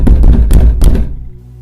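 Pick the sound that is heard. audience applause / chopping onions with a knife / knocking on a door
knocking on a door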